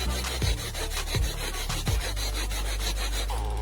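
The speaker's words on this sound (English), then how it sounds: "The way the manual chainsaw works." Manual chainsaw cutting a tree, a rhythmic rasping of repeated strokes, three or four heavy pulls followed by a steady grinding rub, close and loud with no talk.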